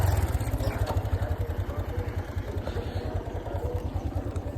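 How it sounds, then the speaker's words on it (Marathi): A motorcycle engine putters nearby with a regular low pulsing throb, steady and fairly close for the whole stretch. "मोटरसायकल येऊ राहिली."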